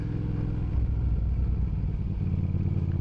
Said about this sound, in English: Oh man, I love the exhaust on this thing. It sounds so sweet.